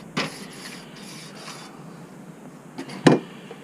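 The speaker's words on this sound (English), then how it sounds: "So we'll give grates a little scrub." A grill brush scrubs the grates of a Weber Smokey Mountain cooker, giving a few quick, raspy scraping strokes up close with short pauses between them.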